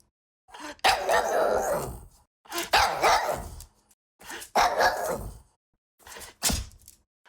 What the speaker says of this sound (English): this final recording I used is of my lovely dog